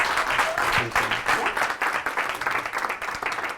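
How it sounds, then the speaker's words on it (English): Clapping from a small audience at a talk on one-to-one meetings and relationship building, an uneven, moderately loud patter of hands lasting a few seconds. "Big round of applause."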